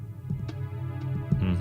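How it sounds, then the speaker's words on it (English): Low throbbing hum with soft bubbling, gurgling pulses from the stomach ambience of Jabu Jabu's Belly in Ocarina of Time, faint and steady, with no talk. "There's that stomach ache noise."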